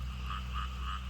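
Frogs croak in rainy rice fields, a loud close chorus with three evenly spaced croaks over a steady low hum, and no talking.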